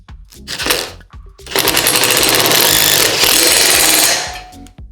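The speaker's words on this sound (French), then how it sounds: "j'utilise la visseuse à choc, une douille de 13" Impact driver with a 13 mm socket driving screws straight into concrete, loud close hammering rattle in two bursts: a short one, a brief pause, then a longer sustained run that cuts off.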